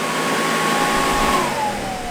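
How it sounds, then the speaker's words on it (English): The blower of an inflatable movie screen hums loud and close as it is switched off, its steady whine sliding gradually lower in pitch as the motor winds down. "I'm actually going to walk back here and physically turn off the blower"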